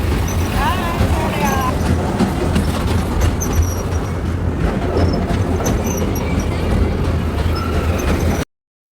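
A small amusement park train ride at a fair rumbles steadily along with a low mechanical drone, while people's voices chatter throughout.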